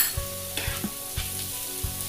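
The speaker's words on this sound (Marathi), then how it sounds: "आता शिमला मिरची आपण 2 मिनिटं यामध्ये परतून घेऊया" Capsicum sautéing with softened onion in a pan over medium heat for street-style masala pav: a steady close sizzle broken by sharp stirring clinks about every half second.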